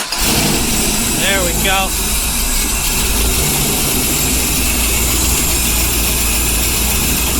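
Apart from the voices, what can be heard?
turbocharged engine starting and running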